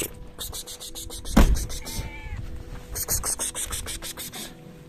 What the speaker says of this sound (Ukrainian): Так, котики їдять.